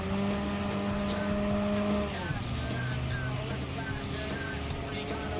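An upgraded Jeep racing in Gran Turismo 7, its engine droning loud and steady throughout, pitch dropping once as it shifts, with faint tire noise and no talk.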